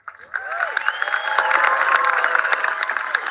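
An audience at a live celebration event gives a round of applause, with steady clapping, cheering and scattered shouts swelling after a quiet start and holding throughout.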